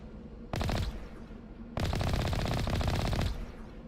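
Two bursts of rapid automatic gunfire from a Mass Effect: Legendary Edition firefight, a short volley followed by a longer sustained stream, loud and close with no talking.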